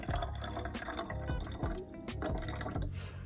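Concentrated nutrient mixture for a hydroponic reservoir is poured into a bottle up close, making a continuous liquid trickle with gurgles and drips and no talk.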